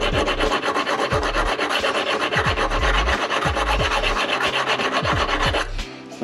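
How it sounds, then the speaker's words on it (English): A diamond file is worked back and forth along a cheap Harbor Freight steel chisel, giving rapid, rhythmic rasping strokes, close and steady, with no voices. "It basically is just diamond coated piece of metal, so you can file in both directions."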